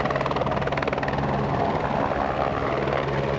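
A rescue helicopter hovers during a hoist operation in unstable mountain conditions, a continuous loud rotor thump and engine roar with rapid steady blade chop, close and unbroken throughout.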